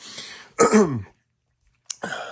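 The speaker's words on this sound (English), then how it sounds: "As I clear my throat" A single loud, gravelly throat clearing, followed after a short pause by a sharp click and a brief murmur.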